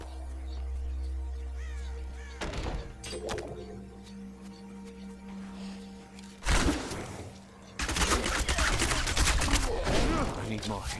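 A Demon Hunter's Rapid Fire skill in Diablo 3 unloads in dense, loud bursts of rapid shots, a short volley early on, another near the middle and a long sustained barrage at the end, over a steady game backdrop.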